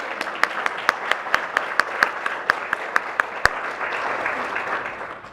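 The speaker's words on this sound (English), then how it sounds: "let's give yourself a round of applause" Applause from an audience at a nonprofit awards celebration, a dense wash of many hands with a few sharp, evenly spaced louder claps standing out, holding steady before gradually thinning toward the end.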